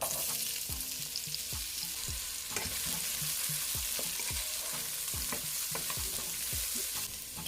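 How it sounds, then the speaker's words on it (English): Scallion, onion and garlic frying in oil in a pan, a steady close sizzle with repeated scraping stir strokes throughout, no voices. "now I'm gonna fry up my scallion, onion,"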